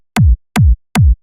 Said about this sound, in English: So our final kick looks like this and sounds like this.